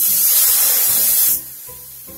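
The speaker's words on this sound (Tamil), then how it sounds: "ரவை நல்லா வறுபட்டதும் நம்ம பாலை ஊத்திடலாம்" A loud, steady hiss of milk poured onto roasting semolina in a hot pan, strong for over a second before dropping to a quieter sizzle.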